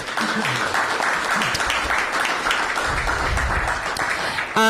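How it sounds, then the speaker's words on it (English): Audience applause for government and Department of Energy and the Environment staff at a Washington DC bill signing for the Green Finance Authority, steady dense clapping filling the room with some voices mixed in, ending abruptly. "Give them a round of applause"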